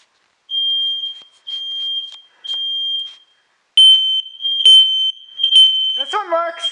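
Household smoke alarm during a monthly test, giving three steady high-pitched beeps with short gaps, then a louder set of sharper chirps with a brief voice near the end.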